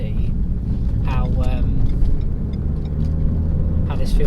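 Renault Megane RS Trophy sitting on Cooksport lowering springs rolls around a roundabout, a steady low engine and road rumble from inside the cabin with some wind buffeting, while someone talks over it.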